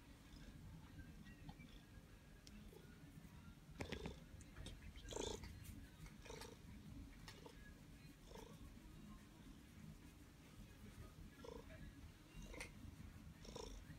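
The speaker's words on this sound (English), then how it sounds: "You purring?" A domestic cat purrs steadily and up close, a low continuous rumble running under a person's soft, affectionate talk with a few brief clicks and rustles.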